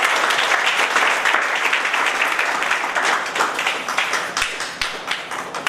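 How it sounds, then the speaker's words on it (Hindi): Loud, dense applause from a large audience at a Safe Shop gathering, a steady roar of many hands clapping that carries through the whole stretch and eases slightly toward the end. "जोरदार तालियां, जोरदार।"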